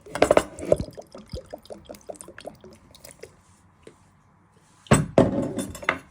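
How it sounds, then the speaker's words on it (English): Dark soy sauce splashes and drips into a bowl in short bursts, with a few light clinks, then a louder pour or clatter near the end. "you also want to add in a few splashes of"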